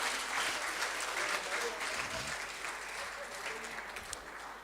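Audience applause at a rugby referees' annual awards dinner: sustained, even clapping from a roomful of guests, with faint voices mixed underneath.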